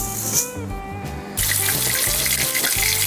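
Tap water runs steadily into a vessel while soaked sorghum and raw rice are washed in it, a close splashing flow that rises into a louder, fuller gush partway through.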